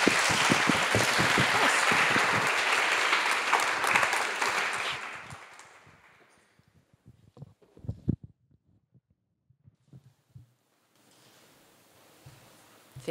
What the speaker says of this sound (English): a big round of applause for our Dean